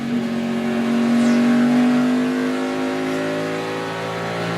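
A race car engine at the Grand Prix of Atlanta, a loud, steady, high-pitched drone near at hand that swells slightly and then eases off, with no talk over it.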